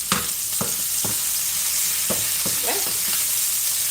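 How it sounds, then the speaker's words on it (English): Garlic, onions and bell pepper sauté in a pan with a steady bright sizzle, broken by several sharp scraping stirs. A voice speaks one short word near the end. "We're sauteing some veggies here, garlic, onions, and bell pepper"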